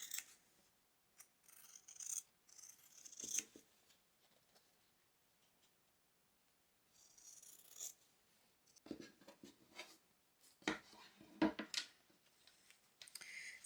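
Scissors trimming fabric for a mini handbag, quiet close snips and rasping cuts in short bursts separated by pauses, with light handling rustle between them.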